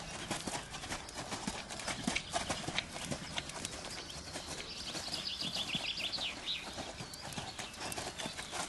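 A horse working on a lunge line sends up a steady, rhythmic clip-clop of hooves, fairly close and continuous, with faint birdsong chirping in the background.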